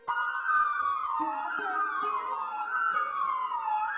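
An ambulance siren wails up and down continuously, fairly close and loud, with no talking.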